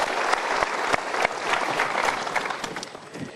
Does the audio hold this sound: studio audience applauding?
yes